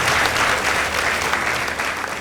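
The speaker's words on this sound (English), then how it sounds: "Let's give them a round of applause." Steady audience applause fills the hall after a school debate result is announced, a dense wash of many hands clapping at even loudness from start to finish.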